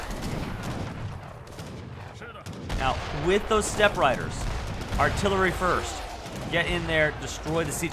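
Artillery and gunfire in a video game battle involving an Indian army with steppe riders attacking a siege, heard as repeated booms and shot bursts beneath excited commentary.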